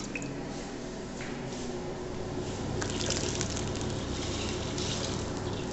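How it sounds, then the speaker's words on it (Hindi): Water poured into a cooking pot while making Maggi noodles in a kitchen, a steady splashing, gurgling pour that runs on throughout at an even level, with no talking. "अभी फिलहाल और पानी डालते हैं इसमें।"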